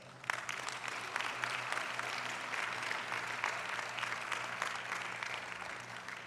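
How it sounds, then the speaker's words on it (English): Graduation ceremony audience at Montgomery College at a student academic excellence awards event, breaking into sustained applause, dense clapping from many hands that stays even and fairly loud throughout. "give yourselves a big round of applause"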